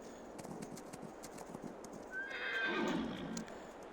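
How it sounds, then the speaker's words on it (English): A horse in the Farming Simulator 22 video game whinnies loudly over a steady clip-clop of hooves, the neigh rising midway through a short, busy game soundscape. "we can go ahead and handle some of the horse riding right now"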